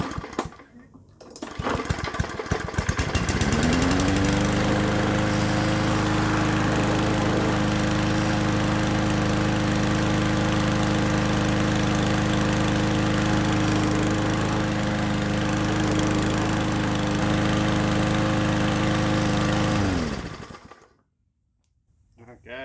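A Yard Machines lawn mower engine, just repaired after several faults, starts and runs steadily for about eighteen seconds at a loud, even idle, then shuts off into near silence.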